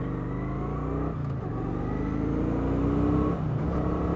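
Motorbike engine revving close by, a loud steady rumble with rising pitch as it revs up near the end.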